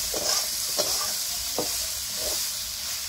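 Chopped chili with cumin and turmeric frying in hot oil, a steady bright sizzle with several short stirring scrapes, close by and alone without speech.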